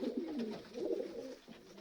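A breeding pigeon coos nearby in a series of soft, low rolling calls, heard close up with no talking over it.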